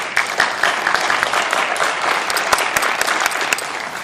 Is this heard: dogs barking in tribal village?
no